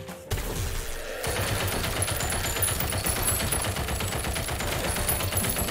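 Automatic gunfire in the video game Deceive Inc. rattles in fast, unbroken bursts. It starts after a brief quiet moment and keeps up loud and dense to the end, with no speech over it.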